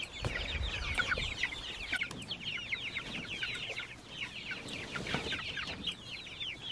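Chickens in a chicken tractor cluck in a busy, overlapping chorus of short, high calls, fairly close and continuous, with light rustling underneath.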